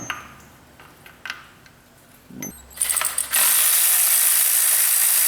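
Ratchet clicking on a 10mm bolt on a GM 3800 engine, a few scattered clicks and taps giving way to a loud, sustained mechanical whir at the end.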